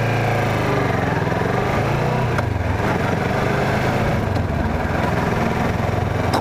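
Motorcycle engine during A2 licence riding practice on a training course, a steady loud drone close by that holds an even, continuous hum with no talk over it.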